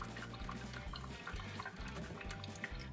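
Hot water runs steadily from a newly installed kitchen faucet into a sink, a constant splashing rush with low gurgling from the drain, no one speaking.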